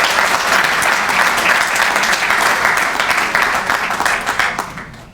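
Dense, sustained applause from a dinner audience at a banquet honoring donors and recipients, loud and steady for about five seconds before tapering off.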